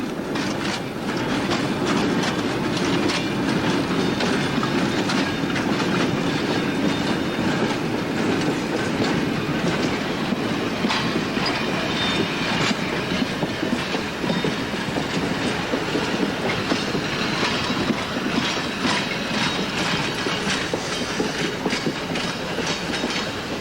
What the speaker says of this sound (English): All aboard for a ride on the Adirondack Centennial Railroad.